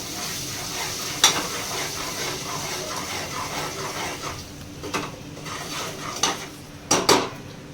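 A spoon stirring masala into chicken curry in a metal pan, with scraping and clinking strikes at irregular intervals over a low sizzle, several sharper clanks near the end.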